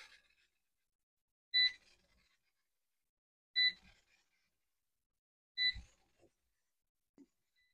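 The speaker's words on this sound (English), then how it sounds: "our electric canner is beeping" Three short electronic beep bursts spaced about two seconds apart, clear and close against near silence, followed by a faint click.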